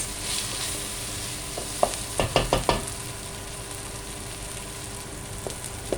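Vegetables for pulao, including boiled potato, dropped and stirred in a hot pan: a soft steady sizzle under a quick cluster of scraping, clattering stirs near the middle, close up, with no talking.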